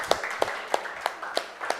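Audience applause for an arriving guest at a Hindi quiz-show style event, heard as six sharp, evenly spaced claps rather than a dense ovation, fairly quiet and alone without voices.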